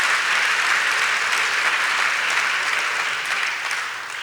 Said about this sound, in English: Let's give him a round of applause, Reverend Calvin Butts.